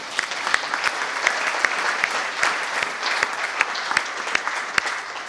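Loud, sustained audience applause from a gathered crowd, dense clapping with a few sharper individual claps standing out near the listener.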